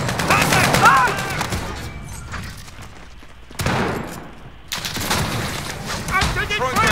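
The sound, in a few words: gunfire in Call of Duty Warzone video game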